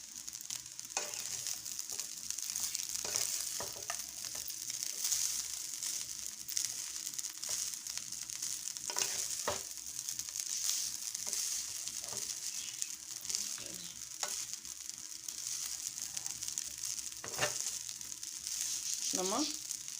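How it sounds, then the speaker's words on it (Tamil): Bread pieces fry and sizzle in a pan for vegetable fried rice, a steady hiss broken by repeated stirring scrapes and clatter. "இப்போ இந்த ப்ரெட்டுகளை நம்ம இதில் சேர்த்துக்கலாம்."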